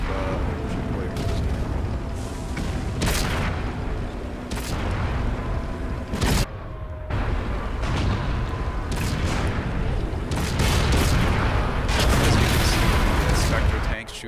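Tank cannons fire during World of Tanks Halloween mode, heavy booming shots and blasts at irregular intervals over a dense, loud rumble of engines and battle noise, with a voice talking throughout.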